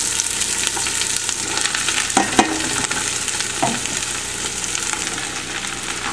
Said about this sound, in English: Once the olive oil is hot, we'll go ahead and add our onions